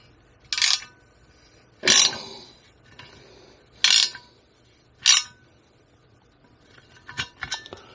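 Ratchet wrench tightening a TPMS sensor nut on a 2012 Honda Goldwing wheel, four distinct sharp metallic ratcheting bursts close by, separated by quiet pauses, then lighter clicks and rattles.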